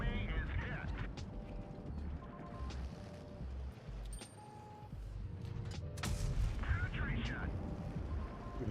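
Tank cannon fire in the World of Tanks Blitz video game, heard during a community tournament match: repeated booming shots and rumbling battle noise under steady voice commentary.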